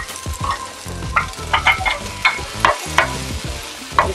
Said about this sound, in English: You saute it.